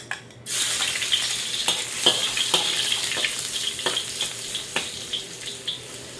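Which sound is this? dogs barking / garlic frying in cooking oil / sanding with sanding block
garlic frying in cooking oil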